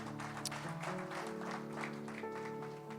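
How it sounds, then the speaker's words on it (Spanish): Church congregation clapping for the Lord during a Spanish-language service, a steady continuous wash of applause over sustained organ or keyboard tones, moderately loud throughout. "Denle fuerte aplauso al Señor."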